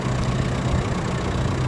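Turbo diesel TDI engine of a Volkswagen New Beetle idling, a steady low rumble with a faint knocking texture, close and constant with no voices.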